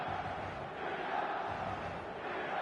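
Steady roar of a stadium crowd in the football video game eFootball, a dense continuous wash of cheering and chanting with no breaks, moderately loud and distant.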